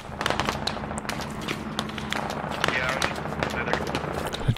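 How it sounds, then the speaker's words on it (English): Rapid gunfire in the military shooter game Squad: a near-continuous run of sharp cracks and bursts, some close and loud and others further off, over a rumbling low background. "Shots northwest."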